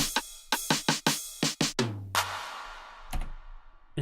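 A punchy clap sample from a song's chorus snaps out in a quick run of sharp hits, joined briefly by a deep bass tone and then a fading noisy wash, all quiet and without voices.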